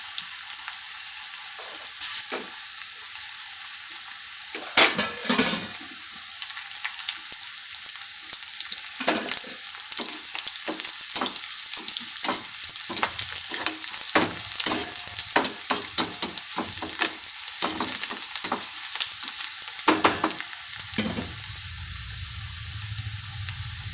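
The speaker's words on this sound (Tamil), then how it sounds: "இதில் பூண்டு தட்டி வச்சுருக்கிறேன், காஞ்ச மிளகா, கருவேப்பிலை, வெங்காயம் இது எல்லாத்தையும் போட்டு கொஞ்சம் இது நல்லா ப்ரௌன் ஆகட்டும்" Garlic, dried chili, curry leaves and onion fry in an iron kadai, a steady close sizzle with frequent sharp crackles and stirring scrapes, and a louder burst of spitting about midway.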